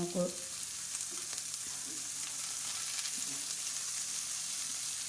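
Capsicum, carrot and tomato sizzle in butter and ghee in a pan, a steady soft frying hiss with a few light stirring scrapes near the start.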